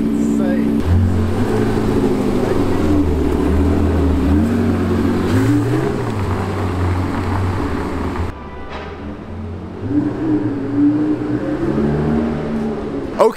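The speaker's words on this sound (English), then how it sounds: "Here we have the Porsche 918 startup. Can I rev it a bit?" Porsche 918 hypercar in London starts up and revs, its engine note climbing and falling in several loud sweeps before settling to a lower idle, with people talking nearby.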